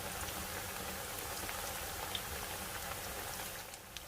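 Tacos frying in hot oil until golden brown and crispy, a dense, steady crackling sizzle like heavy rain, loud and close, with scattered pops and no voices.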